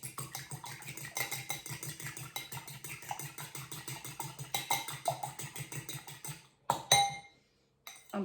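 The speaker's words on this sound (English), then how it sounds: "crack your egg and beat it with the fork." An egg being beaten with a fork in a bowl, a quick steady run of light clinking taps that stops, then a couple of louder knocks.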